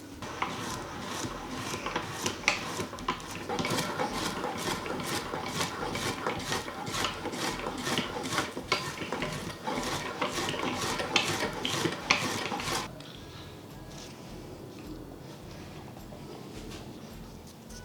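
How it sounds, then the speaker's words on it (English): Knife slicing through dried biltong for a chili oil batch, a steady run of crisp rhythmic cuts and taps on a board for about thirteen seconds, then stopping to quieter room tone. "So I'm going to slice up a lot of this, and this is going to be the chili oil biltong"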